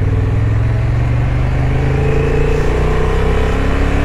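A 2023 Honda CB750 Hornet motorcycle engine pulls hard under acceleration, a loud, steady mid-pitched drone that rises gradually while riding, with wind rush and no talking.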